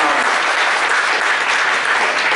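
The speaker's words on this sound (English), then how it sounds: "Please thank him with a round of applause for his precious time and valuable knowledge." A seminar audience gives a steady, dense round of applause after a talk on blockchain and its impact on CAs, filling the room evenly from start to finish with no voices over it.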